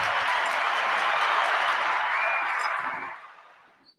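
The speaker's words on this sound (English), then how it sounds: "Let's give another round of applause for our dancers," Audience applause for dancers at a First Nations swearing-in ceremony: a dense, steady wash of clapping from a crowd that holds for about three seconds, then fades away to near silence.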